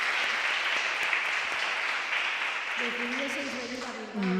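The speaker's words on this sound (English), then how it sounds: "Yes, let's give her an applause." Audience applause at a women's leadership congress at a university in Bilbao, steady crowd clapping throughout, with a voice starting to talk over it in the final second or so.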